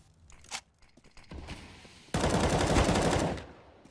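Rapid automatic gunfire in a CS:GO professional match, ENCE versus MAD Lions, with sparse shots at first, then a dense, loud sustained burst lasting about a second before it cuts off.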